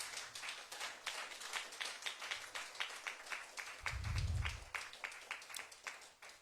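Inside a church during Sunday praise, the congregation claps in a quick, steady rhythm, with a brief low rumble partway through. It sounds faint and somewhat distant.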